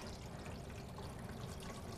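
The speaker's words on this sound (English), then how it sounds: "our finishing touch is just adding the rest of the water" Water pours steadily into a glass cylinder vase over tulips, an even splashing trickle that continues without pause and sounds close by.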